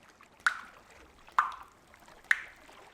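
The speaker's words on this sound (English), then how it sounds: "water dripping." Water drips into a bathtub in a quiet bathroom, three distinct drops falling about a second apart, faint and clear against low background hiss.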